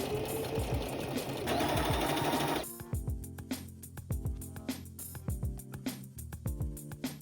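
A sewing machine stitches a curved crotch seam on a low-waisted mini skort, first running in a long continuous burst, then switching to short stop-start runs of stitching, fairly quiet and close.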